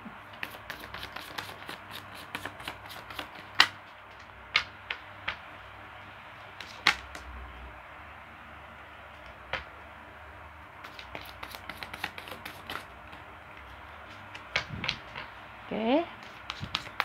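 Tarot cards are shuffled and dropped during a reading, producing sparse soft riffles and sharp little card snaps scattered between quiet pauses.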